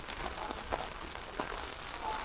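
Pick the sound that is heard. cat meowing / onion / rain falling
rain falling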